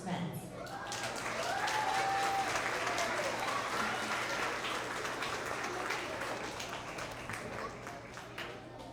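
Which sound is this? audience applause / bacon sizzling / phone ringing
audience applause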